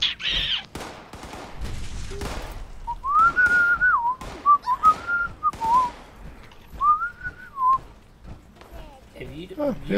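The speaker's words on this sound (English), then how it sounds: "You are whistling, and it's actually very irritating to hear you whistle." Someone whistles a short tune in bursts amid the clatter and gunfire of a game, with people talking over it.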